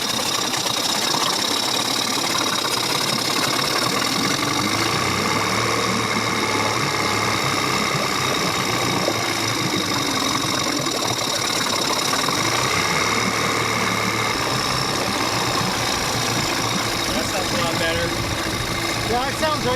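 A four-stroke outboard motor idles continuously with a rhythmic mechanical chatter, close and loud throughout, with voices faintly under it.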